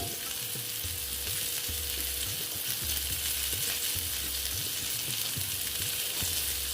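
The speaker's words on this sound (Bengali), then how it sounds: "এবার পটলটা আমি ভেজে নেব সামান্য নুন দিয়ে দিলাম" Pointed gourd (potol) fries with turmeric and salt in a pan, making a steady, hissing sizzle with a faint, regular thumping underneath, close and continuous, with no voices.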